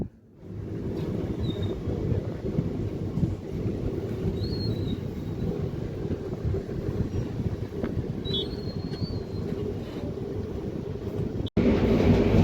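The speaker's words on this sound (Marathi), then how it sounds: "आपली ट्रेन निघालेली आहे" A passenger train pulls away from Mhasoba Dongargaon on the Pandharpur to Satara route, heard from inside as a steady low rumble of wheels and carriage noise, with faint high squeals and a brief break near the end.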